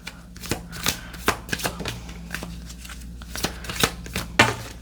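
Goddess oracle cards being shuffled for a tarot reading, a run of crisp riffling and slapping card sounds with uneven rhythm, close to the listener and with no talking.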